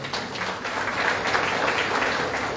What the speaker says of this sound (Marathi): टाळ्या वाजून स्वागत करा